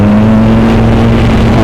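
A Suzuki V-Strom 1000XT motorcycle engine runs loud and close with a steady, deep, throbbing hum, holding at an even pitch throughout.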